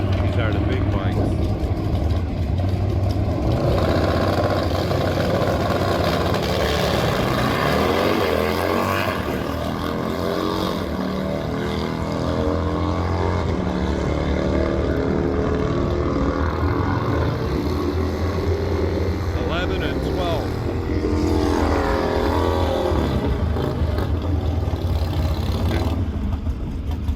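Big motorcycles, not sport bikes, race at the Byron Dragway drag strip, with a loud, sustained engine roar and a rising, sweeping whine that carries on for the whole stretch, while an announcer talks over it.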